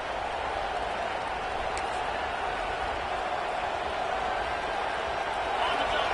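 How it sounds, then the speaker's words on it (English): A full stadium crowd at an Oklahoma State football game against Cincinnati roars in a dense, continuous wall of noise that rises slightly toward the end, with a voice speaking over it. "This crowd, full throat, splitting the eardrums and letting them know it's going to be a long day."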